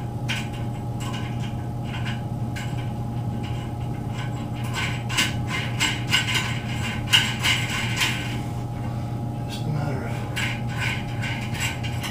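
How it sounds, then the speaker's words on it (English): A ratchet tightens the bolts on a toilet with rapid, steady clicking close up, running continuously over a low background hum, with no talking. "just gotta tighten these bolts down"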